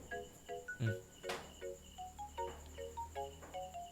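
Quiet night ambience outside a house with crickets and insects chirping steadily in the background, plus a few soft thumps and clicks.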